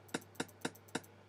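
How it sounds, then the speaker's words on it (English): Four crisp closed hi-hat hits from a house beat programmed in Logic, evenly spaced and sharp, played alone over a faint low hum. "There's closed hi-hat, sounds like this."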